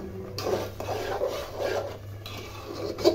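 A spoon scrapes and rubs around a pan of thick sweet-sour-spicy mango pickle in repeated rasping strokes at close range, with a low steady hum underneath and no talking.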